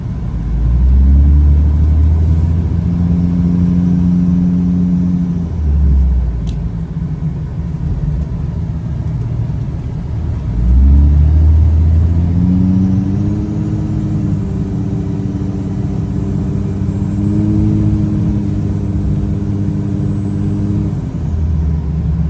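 A 2005 Dodge Ram 3rd-gen 5.9 Cummins diesel flatbed dually drives downhill, its low engine drone and rumble steady and close, with rising and falling tones as it runs, and no talk.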